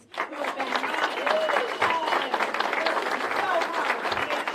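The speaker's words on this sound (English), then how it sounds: "Can we also get a round of applause for the people behind the scenes" A large rally crowd at a get-out-the-vote event in Las Cruces claps steadily and fairly loudly, with scattered cheers and voices mixed into the applause.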